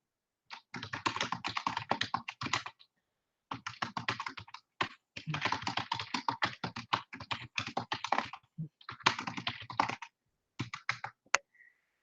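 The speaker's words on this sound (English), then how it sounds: "I just typed hi in the chat" Steady bursts of rapid typing on a computer keyboard, close and clear, broken by short pauses between runs of keystrokes, with no talking.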